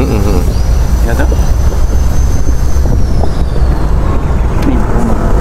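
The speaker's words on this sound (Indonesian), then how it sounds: "lihat pesawatnya mau landing" Airplane on approach to land near Ngurah Rai airport in Bali, a steady broadband engine roar with a slowly falling whine, heard continuously from a rooftop while people talk nearby.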